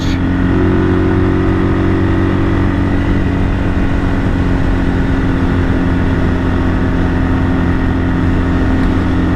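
A rebuilt 1978 Kawasaki KL 250 motorcycle engine runs steadily and loudly throughout, a dense continuous drone with a steady throb and no break.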